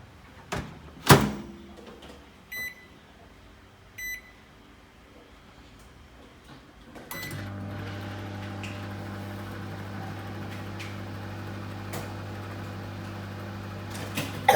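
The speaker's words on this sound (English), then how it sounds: "we are going to go to the oven and put this in and melt it" Soap being melted in a microwave oven for home soap-making: a few sharp clicks and short beeps, then a door thump and a steady, loud low hum as the oven runs for several seconds.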